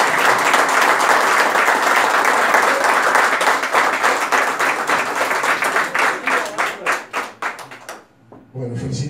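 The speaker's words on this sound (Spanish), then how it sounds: "podemos aplaudir a Pre-Montevideo" An audience at the 2021 Anfa awards ceremony gives loud, dense applause that thins into scattered individual claps before a brief silence, after which a voice begins speaking.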